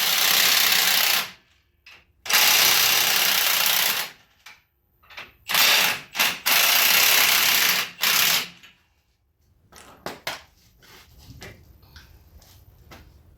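Ratchet wrench tightening shock absorber bolts on a Squarebody truck, heard as several loud bursts of rapid mechanical clicking separated by pauses, followed by fainter scattered ticks and clanks near the end.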